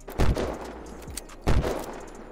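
Gunfire in the survival game Unturned: two sharp, loud shots about a second and a quarter apart, with a fainter click-like sound between them and a low background hum.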